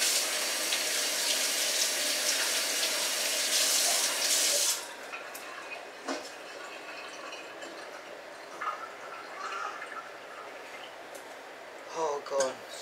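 Kitchen tap water runs loudly for several seconds while an onion is washed, then cuts to a quieter background with faint clatter and brief knocks.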